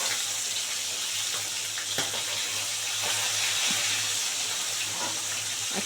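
Tengra fish sizzle steadily in hot oil in a pan after both sides are fried, a constant hiss with faint crackles and no talk.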